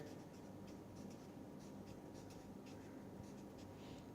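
Chalk or marker scratching across a board during a mathematics lecture, a steady run of soft, close strokes and taps with no talking.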